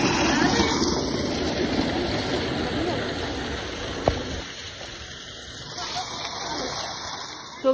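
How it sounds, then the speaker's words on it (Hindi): Water runs from a source on a foggy winter day in a Pakistani village, a steady rushing flow that fades partway through, with a short knock and faint background noise. "यहाँ से पानी आ रहा है"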